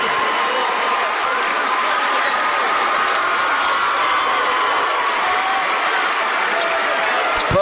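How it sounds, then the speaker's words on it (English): Applause and cheering from the Puxico crowd at a state semifinal basketball game, a loud and steady roar of clapping and shouting that fills the whole hall and continues without a break. "we're going to get a standing ovation as the starting five is going to come out"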